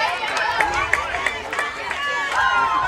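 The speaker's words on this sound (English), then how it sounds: "Good crowd here in the stand for the Lady Eagles cheering them on" Spectators in the stands at a high school softball game cheer for the Lady Eagles, a steady murmur of crowd noise with scattered shouts and claps, and a commentator talking over it.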